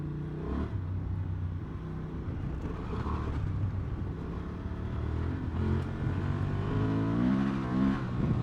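An adventure motorcycle engine, either a Suzuki V-Strom 800 or a Honda Transalp 750, drones and rises in pitch while riding, with a continuous throaty rumble and a climbing rev toward the end.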